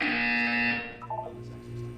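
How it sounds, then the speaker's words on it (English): An electronic buzzer in the game Portal 2 sounds one steady, loud tone for about three-quarters of a second, then cuts off, leaving a low hum and faint after-tones. "You will hear a buzzer."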